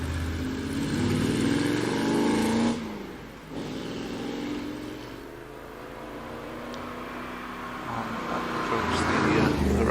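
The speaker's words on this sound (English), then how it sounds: "This is Georgina Dean in the +8 Morgan, again 4-litre machine" A red 4-litre Morgan Plus 8 racing up the Prescott hillclimb, its engine droning loud and steady, easing briefly mid-run, then building again as it accelerates away; a commentator's voice runs faintly underneath.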